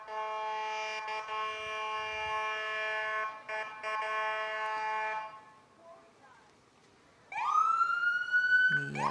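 Willow Lake ambulance, a new rig, sounding its siren as it brings up the rear of a homecoming parade behind the fire trucks; a loud, steady wail gives way to a rising yelp.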